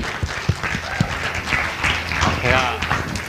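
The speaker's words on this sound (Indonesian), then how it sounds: "kita kasih tepuk tangan buat Mama Yoni" A church youth service crowd applauds, a short burst of scattered clapping that swells and fades, close by under an indoor murmur with a voice talking.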